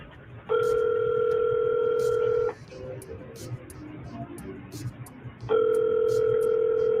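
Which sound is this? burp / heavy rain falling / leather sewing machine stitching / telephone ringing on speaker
telephone ringing on speaker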